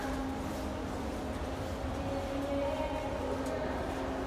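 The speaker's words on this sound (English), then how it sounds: "It sounds like there's a train here" A Toronto TTC subway train rumbles steadily in an enclosed station, with a constant low drone, a faint screech rising midway, and murmuring voices in the background.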